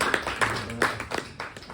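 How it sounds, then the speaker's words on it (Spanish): A small audience at a book presentation in a bookshop claps briefly, a few scattered hand claps rather than full applause, fairly quiet and close. "Si no, un aplauso."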